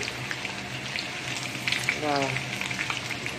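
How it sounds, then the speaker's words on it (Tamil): Chicken pieces fry in a pan, making a loud, dense and continuous sizzle and crackle close up, with a few brief pops and no clear speech. "இப்போது சிக்கன் நல்லா வரப்பட்டுடுச்சு"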